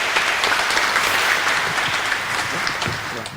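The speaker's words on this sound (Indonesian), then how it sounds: "Kita beri tepuk tangan untuk dua saudara kita." Wedding guests applaud during a church marriage blessing with dense, sustained clapping from a crowd, loud and steady before easing slightly at the end.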